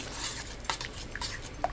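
A spoon works through a vegetable meatball mixture seasoned with soy sauce, cooking oil and ketchup in a bowl, giving faint, soft scrapes and a few light clinks against the bowl over a brief moment.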